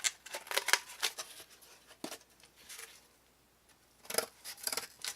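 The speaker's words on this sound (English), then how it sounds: "take your scissors and just cut it out" Scissors snip through paper while cutting out a circle for homemade percussion, giving quiet, close bursts of crisp crunching cuts separated by short pauses.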